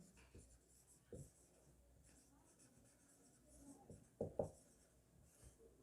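A pen writes side notes during a chemistry nomenclature lecture, with faint scratchy strokes and a few sharper taps, and a voice speaks softly at times.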